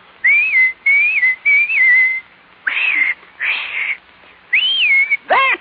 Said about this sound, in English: just whistle like this